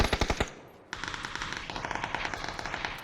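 Automatic gunfire in a PUBG esports match: a quick burst of sharp, loud shots, a brief pause, then a long stretch of rapid, steady fire with no voices.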